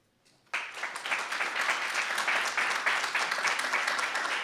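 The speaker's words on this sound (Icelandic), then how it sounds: "við viljum gefa þeim öllum gott klapp" An audience at the Akranes athlete of the year 2021 awards breaks into applause after a brief quiet moment, a dense, steady crowd clapping that stays loud and sustained to the end.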